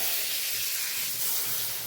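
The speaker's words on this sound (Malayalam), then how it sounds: "കണ്ടോ, നമ്മുടെ അവിയലിലും കടു വറുത്തിട്ടുണ്ട്." Hot oil with fried mustard seeds is poured into avial, a Kerala mixed-vegetable dish, setting off a loud, steady close hiss that fills the whole short moment without any talk.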